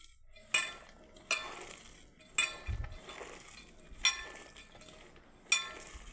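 Soaked lentils and chopped onion being mixed by hand in a bowl, heard as a series of about five distinct scraping, clinking pushes at a slow, even rhythm, close and fairly quiet.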